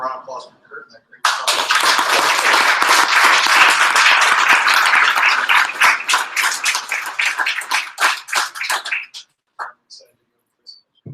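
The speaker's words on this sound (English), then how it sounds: "Another round of applause for Kurt" Audience applause at a tech meetup after an Angular 2 and TypeScript talk: a loud, dense burst of clapping that starts abruptly, holds steady, then thins into scattered claps before fading out.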